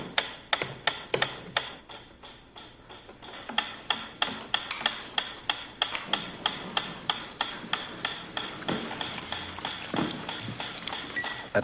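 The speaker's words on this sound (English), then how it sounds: "A ticking metronome." A metronome ticks steadily in an even, unbroken rhythm of sharp clicks, close and fairly loud, with no voices over it.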